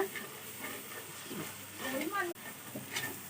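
Chili powder and turmeric frying in hot oil for a meat curry, a steady close sizzle with some stirring scrapes and a voice talking over it.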